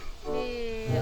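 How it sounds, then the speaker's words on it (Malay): A cat meows once, close and clear, drawn out with a rising and falling tone that briefly slides lower near the end. "Kucing."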